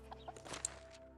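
A rooster clucks a few times in the farm animal market of the medieval survival game Medieval Dynasty, short soft calls over steady game ambience with no talking.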